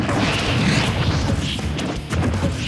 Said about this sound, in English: Charizard, use flamethrower!